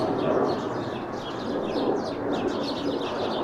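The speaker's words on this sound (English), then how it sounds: "Those birds are obnoxious." Birds chirp and tweet repeatedly outside a garage, their calls moderately close over a steady broadband background hiss.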